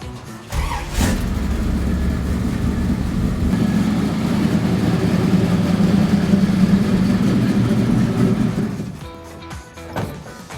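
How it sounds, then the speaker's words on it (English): A car engine idles with a lumpy, choppy rhythm, loud and close, for most of the stretch before cutting off near the end, followed by a couple of short clunks. "It's got a nice little choppy idle to it."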